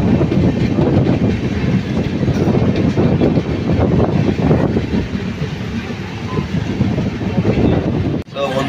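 The Kamrup Express rolls through dense fog, a loud, steady rumble and rhythmic clatter of wheels close by, mixed with rushing wind noise, briefly dipping near the end.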